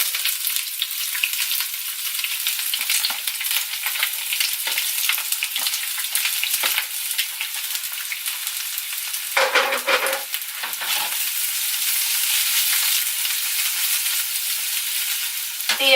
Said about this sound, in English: that's sizzle.